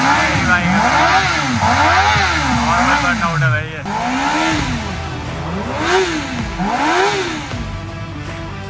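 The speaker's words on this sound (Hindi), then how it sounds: "भाई ने मारा एक बर्नआउट" A Kawasaki ZX-10R motorcycle doing a burnout, its engine revving loud and close in repeated rising and falling surges while the rear tyre spins, with people talking nearby.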